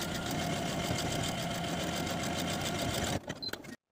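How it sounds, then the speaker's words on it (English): A sewing machine stitches a horizontal buttonhole in a rapid, steady mechanical whir that runs for about three seconds, then stops, with a few faint handling clicks at the end. "According to that marking on your pattern piece, go ahead and sew a horizontal buttonhole in place."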